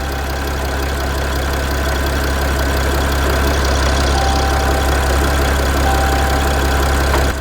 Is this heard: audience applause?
no